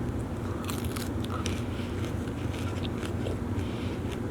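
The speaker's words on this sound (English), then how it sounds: "I'm now eating." Crunchy salad is bitten and chewed close up, giving quiet crisp crunches and crackles over a faint steady background hum.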